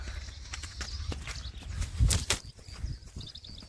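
A mare walks nearby, her hooves clip-clopping in an uneven rhythm, with a heavier thump partway through and faint bird chirps in the background.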